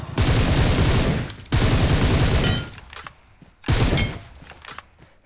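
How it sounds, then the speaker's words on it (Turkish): Gunfire in the mobile game PUBG Mobile, including a headshot: loud, dense bursts of automatic shots in three separate strings with short gaps between them, close and unaccompanied by talk. "Şu headshot ses çok güzel."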